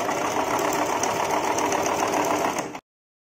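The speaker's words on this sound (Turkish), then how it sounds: "Üst kısmını dikiyoruz şimdi arkadaşlar." A sewing machine stitches the top edge of a fabric face mask, a steady close mechanical whir and rapid needle rattle that runs continuously then stops abruptly, leaving silence.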